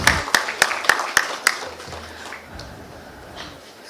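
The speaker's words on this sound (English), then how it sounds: "let's give him a big, big round of applause" A handful of audience claps at a programmatic advertising summit, about six sharp, spaced hand claps over the first second and a half, then fading into quiet room tone.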